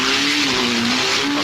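A race car at the 1970 Sebring 12 Hours endurance race roars past at speed, a loud sustained engine drone with a shifting pitch.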